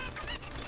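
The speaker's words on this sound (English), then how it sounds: "Make sure you don't leave any of these chickens behind. Throw him in the pen." A cucco chicken in the video game Ocarina of Time lets out a short, harsh, honking cluck, loud and close, with no talk over it.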